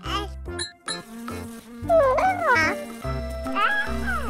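A cartoon housefly buzzes in wavering, swooping tones over bouncy background music, with cat-like meowing sounds mixed in.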